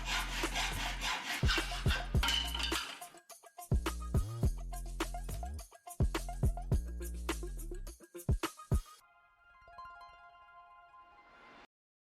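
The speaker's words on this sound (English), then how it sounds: "To cut the rail to the desired size, you will need to use a hacksaw carefully." A hacksaw rasps back and forth through a metal curtain rail in steady strokes, pausing briefly between runs, then fades to a faint ringing hum.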